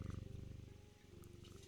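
A domestic cat purring steadily close up, a soft rhythmic rumbling pulse repeating evenly throughout, quiet and alone.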